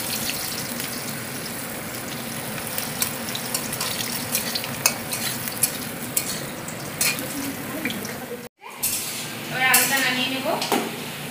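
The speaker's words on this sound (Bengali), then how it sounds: "আলুটা ভালো করে ভাজা হয়ে যাক" Potatoes fry in hot oil for a fish curry, a steady dense sizzle with stirring, interrupted by a brief cut before bubbling resumes loudly; no clear talk.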